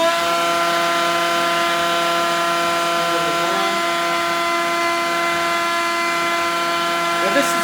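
A CNC machine spindle spins up to cut pet leash hooks, holding a loud, steady high-pitched whine with strong tonal harmonics and faint shifts as it cuts.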